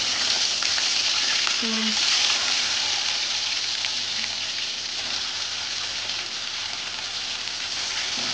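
Hilsa fish heads fry in hot oil, giving a loud, steady, dense sizzle that crackles without a break from start to finish, with no voices over it.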